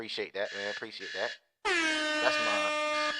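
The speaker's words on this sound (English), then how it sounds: "That's my alarm." A person speaks briefly, then after a short pause a phone alarm set to an air horn tone blares loudly and steadily, sustained to the end.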